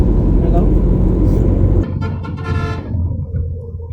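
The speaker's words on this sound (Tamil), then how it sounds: "ஒரு பஸ் ரொம்ப நேரம் அடிச்சிட்ருக்காரு." A bus horn honks repeatedly over loud road traffic at a busy junction, the honking prominent in the second half while engine rumble fills the background.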